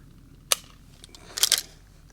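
Two sharp shots from a TEC-9 pistol, a single crack followed about a second later by a quicker cluster, fairly faint against a quiet background.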